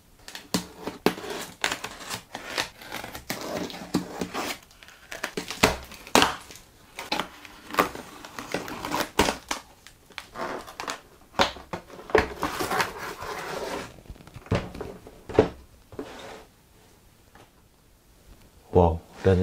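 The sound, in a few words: unboxing a wrapped package of a Monopoly board game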